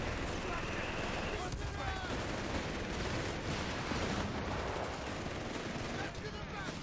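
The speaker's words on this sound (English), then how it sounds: "I don't think the Rangers can shoot that LMG on the move, but I'm happy to stand still and shoot." Rangers firing an LMG in Company of Heroes 3, a steady crackle of distant automatic gunfire and scattered shots spread across a noisy battlefield backdrop, continuous and moderately faint.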